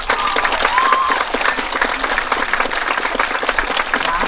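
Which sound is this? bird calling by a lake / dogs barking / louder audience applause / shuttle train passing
louder audience applause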